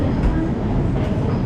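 A Hong Kong metro train rumbles steadily near the Mong Kok and Prince Edward stations, a brief, continuous close-up rolling noise with no distinct talk.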